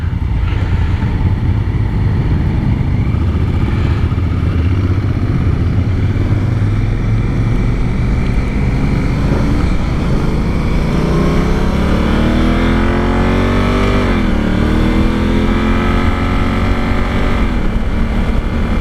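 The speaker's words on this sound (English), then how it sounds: "I think this is the section where we have the biggest acceleration." A 2019 Honda Africa Twin DCT motorcycle pulls hard in full manual mode, its engine note climbing through the gears with clear rising sweeps and a brief shift dip, loud and close over steady wind rush.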